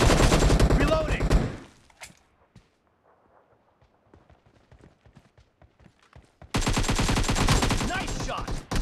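Loud rapid bursts of gunfire from a PUBG team deathmatch game fill the opening and closing seconds. Between them, a quieter stretch holds scattered sharp taps and footstep-like clicks.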